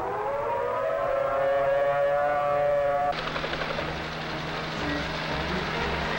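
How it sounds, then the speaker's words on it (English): A civil defense tornado siren sounds a long steady wail that then shifts into a rougher pulsing tone, loud and sustained with no talking. "But we think the siren should be activated at the present time."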